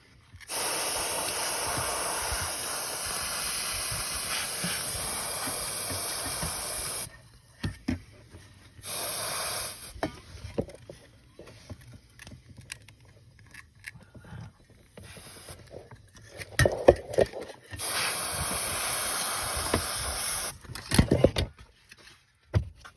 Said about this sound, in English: I don't really want to pick at it, so I got some compressed air here.